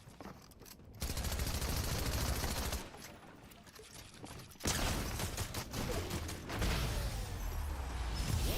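Repeated game shotgun blasts in Fortnite ranked solos, loud bursts of gunfire packed into dense stretches with short gaps in between, close and alone with no voices.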